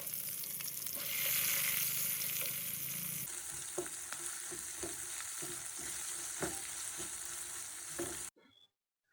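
Green chillies and chopped onion fry in a pan with ginger-garlic, cumin, cardamom and cinnamon pastes, sizzling loudly and then settling into crackling with repeated stirring scrapes before stopping abruptly near the end.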